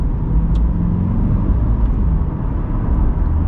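A C8 Corvette accelerates with a loud, steady low engine drone heard from inside, its gear changes too quick to break the sound, with no talking.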